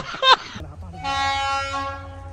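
A train horn blares as a train approaches a rural crossing near Mangaldai, a long, steady, tonal blast that holds for over a second after a brief burst of talk.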